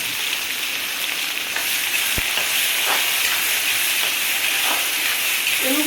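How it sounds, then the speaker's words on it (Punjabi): A tadka of onion, tomato, green chili and ginger fries in hot oil, making a loud, close, continuous sizzle with faint stirring and no speech. "ਆਪਾਂ ਚੰਗੀ ਤਰ੍ਹਾਂ ਭੁੰਨ ਲਵਾਂਗੇ ਤੜਕੇ ਨੂੰ"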